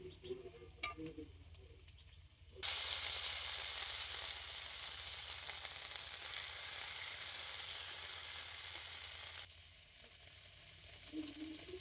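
A freshly ground spice paste hits a hot pan while cooking gima greens the traditional way, bursting into a strong hiss that holds for about seven seconds before cutting off, with faint clinks in the quiet before and after.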